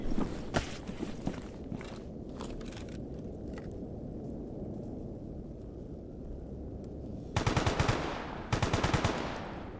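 Gunfire in the video game Stalker Gamma: scattered single shots early on, then two loud bursts of rapid automatic fire later, over a low background rumble.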